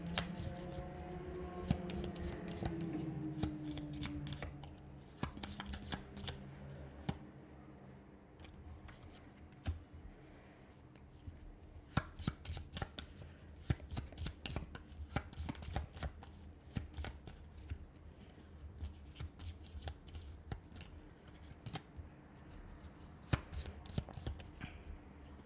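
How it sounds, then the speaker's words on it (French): Tarot cards being shuffled and laid out on a table, with steady crisp riffling and slapping card sounds close by throughout, and a voice speaking briefly at the start. "Alors, on va installer déjà les cartes."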